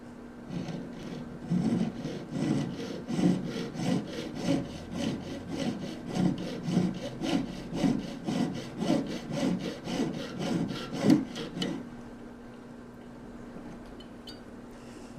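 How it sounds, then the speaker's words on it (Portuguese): A jeweler's saw cuts the seam of a simple silver wedding ring in a steady rapid back-and-forth rhythm of about two dozen close rasping strokes, then stops, leaving a faint hum. "Eu encontro o máximo que eu posso e aí eu passo a serra novamente,"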